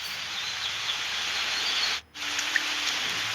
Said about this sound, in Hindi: बारिश बहुत तेज हो गई है।